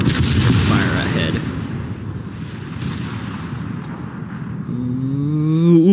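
Naval guns of the cruiser Leipzig firing in War Thunder, a heavy booming blast that rolls into a long rumbling decay, with a voice briefly over the end.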